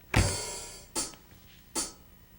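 Three struck bass notes in a 3/4 waltz pulse, the first heavy with a deep low thump, followed by two lighter, brighter hits, close and fairly quiet.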